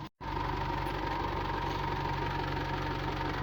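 A car engine runs steadily while the vehicle sits stuck in loose desert sand, a close, even idle drone with a low throb that starts after a brief moment of silence.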